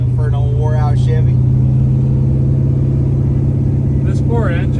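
An old, worn-out Chevy crew cab truck idles with a loud, steady low drone, while someone speaks briefly near the start and again near the end.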